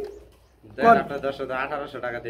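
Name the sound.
pigeons cooing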